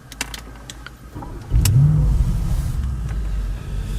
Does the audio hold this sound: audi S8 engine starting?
yes